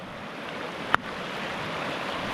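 Steady broadband rush of a creek flowing at the Bearden Falls crossing in North Georgia's Blue Ridge area, with one brief sharp click near the middle.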